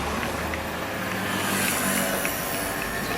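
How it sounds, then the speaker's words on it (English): A busy street soundscape of outdoor ambience, a constant dense wash of traffic noise with a car and motorbike passing and faint crowd murmur, steady and fairly loud throughout. "add in the sound effects of outdoor ambience, people talking, a motorbike and a car."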